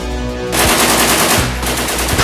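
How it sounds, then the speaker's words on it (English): Sustained automatic gunfire in a WW2 war film, a loud close burst that begins abruptly and continues as dense rapid fire, with low thuds underneath. "Taking fire, Major."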